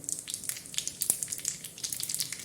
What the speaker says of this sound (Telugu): ఆవాలు జీలకర్ర వేసి వేగనివ్వాలి